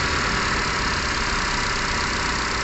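A Ford EcoSport engine, running again after its water-damaged starter motor was cleaned, idles with an even, continuous mechanical hum and clatter, heard close and steady with no voices.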